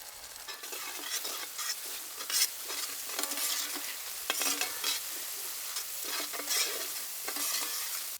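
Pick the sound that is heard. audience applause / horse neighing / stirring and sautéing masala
stirring and sautéing masala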